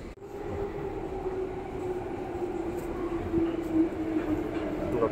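Metro train pulling into a station in Singapore, a steady loud rumble of wheels and motors with a sustained hum and faint squeal rising slightly as the train arrives, no talk over it.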